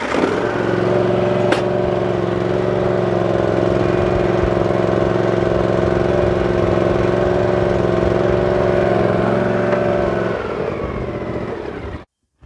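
A John Deere Z540M zero-turn mower runs close by with a steady mid-pitched engine drone as it is driven forward onto a lift, then the engine winds down and cuts off near the end.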